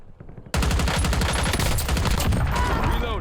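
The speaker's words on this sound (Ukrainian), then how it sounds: "Постійно вони там стріляються" Rapid automatic gunfire in the Call of Duty Warzone video game, a continuous loud burst of shots starting abruptly after a short quiet lead-in and running to the end without pause.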